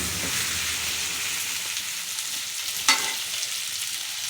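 Taro pieces fry with onions in a pan, giving a steady soft sizzle with one brief sharp clink partway through.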